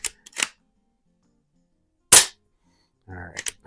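A paintball gun fires at a can, producing a few sharp, separate pops spaced out in time, with a brief voice near the end.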